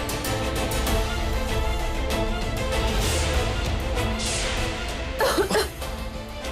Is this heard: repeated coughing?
yes